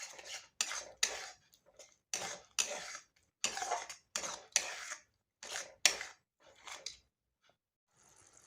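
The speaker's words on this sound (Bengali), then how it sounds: "আর এটা এখন খুব ভালোভাবে কষিয়ে নেব যতক্ষণ না মশলা থেকে তেল ছাড়ছে" Spatula scraping and clattering in a pan as masala with yogurt, spices and a little sugar is stir-fried for paneer masala curry; repeated close, sharp bursts in a steady rhythm with brief pauses, no talk.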